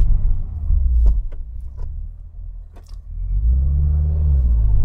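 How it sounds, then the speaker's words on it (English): A 2015-2021 Subaru WRX with new brake pads gathers speed to about 20 mph, then brakes hard to bed the pads: loud engine rumble inside the cabin, a dip, then a second surge with small clicks and rattles. "You want to get yourself up to about 20 miles an hour and then slam on the brakes."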